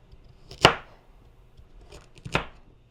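Two sharp knife chops through carrots onto a cutting board in a home kitchen, each a crisp close thunk followed by quiet.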